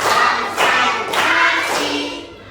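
A classroom group claps through a counted clap pattern during a religious education teaching practice session: a series of sharp group clap bursts in a steady rhythm, loud and close, with no voices over them.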